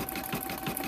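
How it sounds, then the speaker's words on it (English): A sewing machine satin-stitches an appliqué onto balsam wood with fast, even mechanical whirring and a regular pulsing beat across the short stretch, heard alone at low volume. "now we are getting ready to do the satin stitching, and I am holding down this wood"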